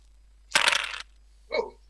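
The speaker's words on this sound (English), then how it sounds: "That sounded like a lot of dice." Heavy dice tumble in a video game: a loud, dense clatter lasting about half a second, then a shorter, softer rattle after a brief pause.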